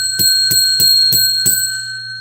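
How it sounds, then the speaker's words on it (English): A metallic bell rings five times in an even, fairly quick rhythm, each strike loud and close with a sustained ringing tone that fades after the last hit, and no talking. "10 rings of the bell."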